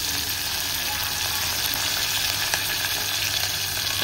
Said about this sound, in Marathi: हे सर्व साहित्य आपण व्यवस्थित परतून घेऊया।